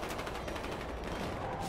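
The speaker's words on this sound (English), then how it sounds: "we're getting shot" Battlefield Hardline gunfire comes as a dense, continuous crackle of rapid shots that fills the whole stretch at a steady, fairly loud level.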